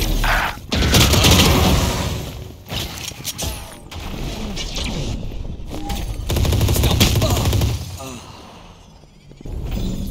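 Bursts of rapid video-game gunfire in a shooter match run almost continuously at close, loud level, with booms and whooshes mixed in and players' voices talking over the shooting.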